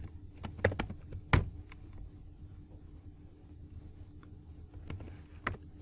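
Typing on a computer keyboard while writing code, with scattered clicks and short bursts of keystrokes, some sharp and close, over a low background rumble.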